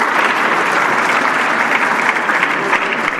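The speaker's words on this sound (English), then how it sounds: "A big round of applause for Ms. Sirisha." An audience at the India Startup Festival 2023 bursts into loud, dense applause for a speaker being introduced, a continuous roar of many hands clapping close and full, with no talking over it.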